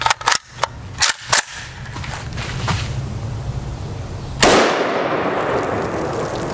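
A 10-inch M85 PAP rifle fires .223 Remington 62-grain FMJ rounds, several sharp, loud cracks in quick succession, then a louder blast with a lingering noisy tail.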